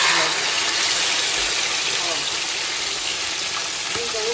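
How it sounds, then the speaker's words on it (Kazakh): Food fries in a pan of hot oil for a homemade dinner dish, giving a steady, loud, broadband sizzle that runs unbroken throughout. "толықтай пісу үшін енді осы майға салдық қой"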